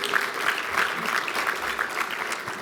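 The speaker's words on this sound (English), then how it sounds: "That deserves a round of applause there, no?" An audience breaks into a round of applause at a nonprofit event, a full, sustained clatter of many hands, fairly loud and close, fading slightly toward the end.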